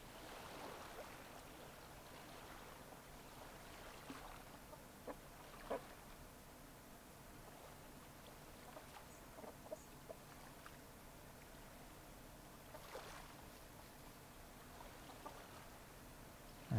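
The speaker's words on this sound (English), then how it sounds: "The chicken sounds like it's right next to me." A chicken clucks faintly in the survival video game SCUM, scattered soft clucks over a steady background of rushing water and outdoor ambience.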